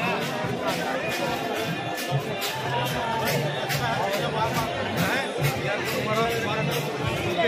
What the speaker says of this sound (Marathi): गर्दी प्रचंड गर्दी आहे.